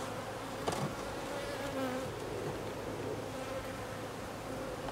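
Honeybees buzz around a hive, a dense, continuous droning hum close by with individual bees passing near, no voices.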